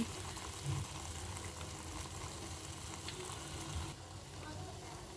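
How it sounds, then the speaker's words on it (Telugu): Homemade herbal hair oil boiling in a pan on the stove, a quiet, steady bubbling sizzle with small popping crackles, close by and continuous. "ఇదిగో చూడండి ఇప్పుడు కూడా ఎలా మరుగుతుందో"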